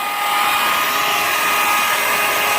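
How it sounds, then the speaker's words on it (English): An electric drill spins a plaster-mixing paddle in a bucket of freshly harvested walnuts, making a loud, steady whine with churning and scrubbing underneath that runs without a break. "by chucking it up in my electric drill, I just use that as the agitator"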